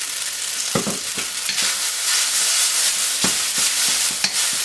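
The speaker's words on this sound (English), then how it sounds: "I'm going to put in my noodles. And I'm going to throw in a little extra shot of olive oil here." Already-cooked noodles stir-fry in olive oil for an Asian takeout-style dish, with a steady sizzle broken by several sharp clattering stir strokes close by.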